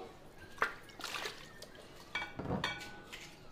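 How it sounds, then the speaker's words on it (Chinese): Spare ribs dropped into a pot of cold water for blanching: a few soft splashes and clinks of meat and metal at close range, separated by brief quiet gaps, faint overall. "排骨冷水下锅，"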